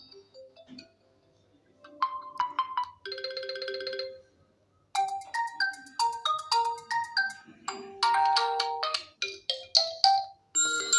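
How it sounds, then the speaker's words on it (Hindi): Realme 7i smartphone ringtones previewed one after another: a string of bright electronic chimes and melodic tones in short bursts, each cut off before the next begins, with a brief silent gap, alone and clearly loud. "यहाँ से आप कोई सा भी रिंगटोन चेंज कर सकते हैं"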